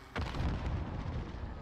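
Grenade explosion in Modern Warfare, a sudden heavy boom with a rumbling low tail that lasts over a second before cutting off.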